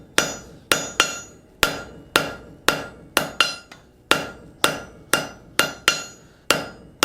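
Hot iron being hammered on the tail of an anvil while forging a Gothic door knocker, a steady series of sharp ringing blows, about two per second, loud and close with no talk.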